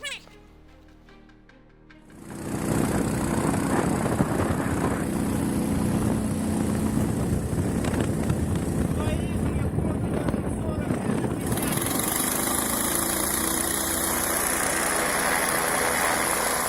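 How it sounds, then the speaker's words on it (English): After a quiet start, the rear propeller engine of a homemade ultralight snow aircraft on skis roars to life and holds a steady, loud drone, its pitch rising partway through. "It's a homemade ultralight snow aircraft, sliding on skis and pushed by a rear propeller."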